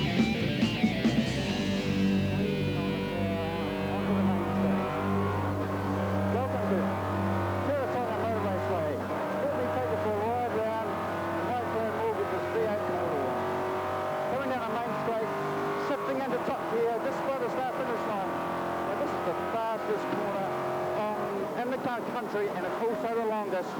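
A V8 touring race car at Teretonga in 2004 roars continuously at close range, its engine note rising and falling through gear changes with occasional tire squeal, under a steady commentary voice.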